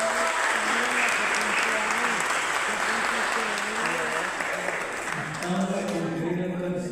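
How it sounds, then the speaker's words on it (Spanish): Church congregation applauding in a steady, continuous wash of hand claps, with a voice speaking over the clapping. "Vamos a dar una aplauso a la primera vez."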